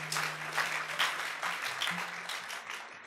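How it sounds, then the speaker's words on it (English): Brief, soft applause from a church audience, a dense patter of many hands clapping at a moderate distance for about three seconds. "Let's give a round of applause for Jesus Christ."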